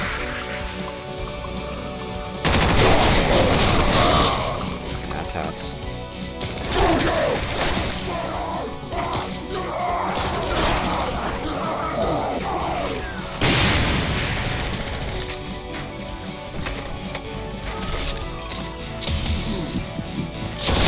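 Gunfire in the Doom Project Brutality mod, sustained loud bursts and booming shots layered over chaotic combat noise, a shouting voice heard briefly between volleys.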